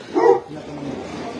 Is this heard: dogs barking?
yes